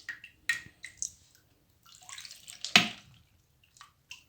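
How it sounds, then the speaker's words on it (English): Salty brine for pickled green tomatoes is poured into a container, producing short splashes and drips at close range that build to a brief louder gush before trickling off, with no talking. "We add the salty water to the container."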